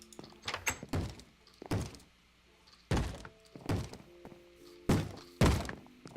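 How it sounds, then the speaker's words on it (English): Zombie pounding on a wooden door in Minecraft, a series of heavy hollow thunks arriving in irregular pairs and singles, loud and close with quiet gaps between. "Is something pounding on a door?"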